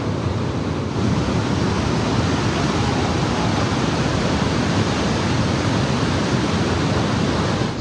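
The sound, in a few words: powerful waterfall crashing down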